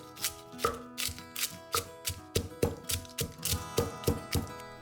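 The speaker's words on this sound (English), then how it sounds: "Then start by pounding the chilies." Chilies are pounded in a mortar for Thai chilli jam (prik pao). Soft, rhythmic thumps come about twice a second, roughly ten in a row, quiet and close, with no speech.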